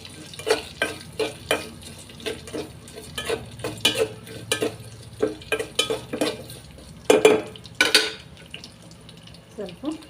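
Tempering for radish sambar fries in a pan over a high flame, with a soft steady sizzle under repeated sharp scraping clacks of stirring that come roughly every half second, close and moderately loud.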